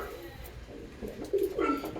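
A yellow-eyed female pigeon coos softly in a few low, throaty bursts near the end, with a faint murmur of background noise throughout.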